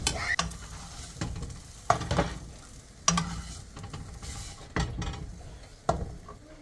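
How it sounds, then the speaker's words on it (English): Beaten egg stir-fried in a hot oiled pan for shrimp fried rice, with a steady sizzle and repeated scraping strokes of a spatula at an uneven rhythm, close and moderately loud, no talking. "I'm not going to cook the egg too much because I don't want them to be overcooked."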